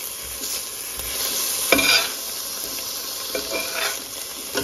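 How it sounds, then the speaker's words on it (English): Whole spices, including cloves, a cinnamon stick, green cardamom and black peppercorns, sizzle steadily in hot oil while a spoon stirs them, with scraping strokes against the pan over a continuous close hiss. "And just mix it all up. And saute it nicely."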